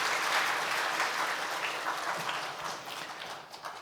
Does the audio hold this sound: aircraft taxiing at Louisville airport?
no